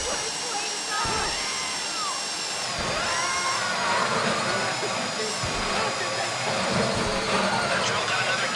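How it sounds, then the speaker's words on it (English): A heist drill in a video game whines steadily at high pitch, running continuously under muffled game noise and excited talking from players. "That drill got another gear?"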